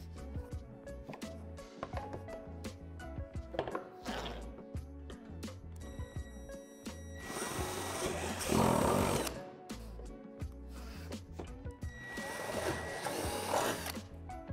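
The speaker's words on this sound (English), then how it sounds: "drill it out with a 3/8 drill bit" A 3/8 drill bit bores through a plastic barrier panel on a bracket, giving two loud sustained grinding bursts over steady background music.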